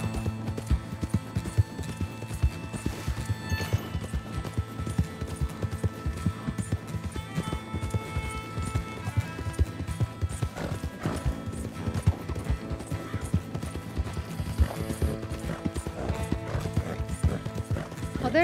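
Wild horses gallop in Red Dead Redemption 2, a continuous rapid clip-clop of many hooves running together, with occasional neighs over a soft game backdrop.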